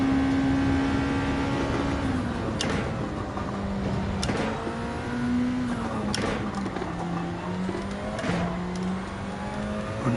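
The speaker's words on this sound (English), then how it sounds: "I like the sound of the other car." A race car engine in Gran Turismo 7 revs up and down through gear changes, with sharp shifts and a droning whine, loud and continuous throughout.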